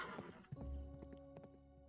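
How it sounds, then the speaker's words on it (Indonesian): A horse-drawn carriage with bells approaches along a road beside a house: faint ringing tones blend with soft hoof clops and a brief horse snort, quiet and somewhat distant. "Suara lonceng seperti suara kereta kuda itu semakin terdengar jelas dari arah jalan samping rumah nenek."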